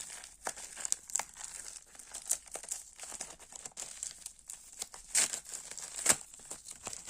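An AliExpress parcel is opened at close range, with sharp, irregular crinkles and rustles of plastic packaging and a few tearing sounds, quiet overall and without speech.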